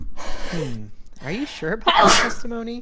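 A single sharp sneeze bursts out near the end of a stretch of speech, close and loud, while a voice talks over a quiet game backdrop from Phoenix Wright: Ace Attorney.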